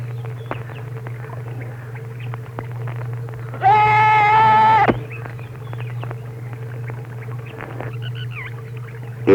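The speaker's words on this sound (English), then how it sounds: "A goat is slaughtered to drive out the evil that could hold sway over the community" A goat bleats once in a long, wavering, tonal cry at a ritual slaughter meant to drive evil from a community, standing out loudly over a steady low hum and faint background activity.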